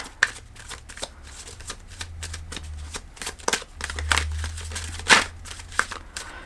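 Tarot cards shuffled by hand during a Gemini reading, a steady run of soft riffling and flicking bursts over about six seconds, close and moderately loud with a low hum underneath.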